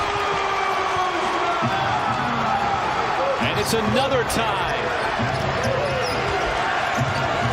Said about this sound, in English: for the first time we hear this DC crowd